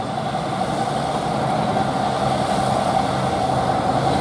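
Nissan truck crawling slowly up a steep hill, a heavy, steady engine rumble laboring without letup, loud and near.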